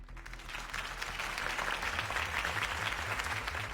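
A crowd applauds after Harvey Dent's campaign speech in Batman: The Telltale Series, a steady wash of clapping and cheering that swells slightly over a low, pulsing musical backdrop.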